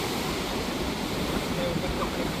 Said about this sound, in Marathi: हे बघा मोठ्या मोठ्या लाटा उठतात